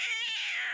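A pregnant stray cat in a cartoon gives a single short, high meow lasting under a second, close and alone with no talk.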